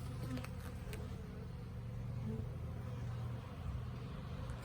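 Honey bees buzz around an opened Langstroth hive, converted from a top bar hive, in a faint, steady hum close by, with a few brief higher tones and no speech.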